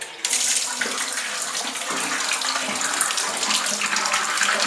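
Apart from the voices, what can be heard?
bathtub filling with water during Ridgid Power Clear drain cleaning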